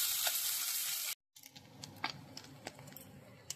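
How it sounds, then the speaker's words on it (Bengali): Small desi tengra fish fry in a pan: a loud, steady sizzle of hot oil, then after a brief cut a softer crackle with scattered pops and spatters. "এরকম লাল করে করে মাছগুলো সব ভেজে নেবে।"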